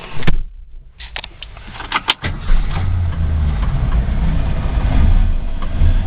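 A 1966 Ford Mustang coupe engine cranks with a brief clatter, catches and settles into a steady, loud, rumbling idle that runs continuously to the end.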